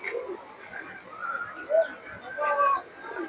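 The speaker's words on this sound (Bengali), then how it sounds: "অনেক কবুতর উঠতেছে।" Pigeons coo at Batu Caves in Malaysia, with soft, low calls rising now and then over a busy outdoor background and faint murmuring.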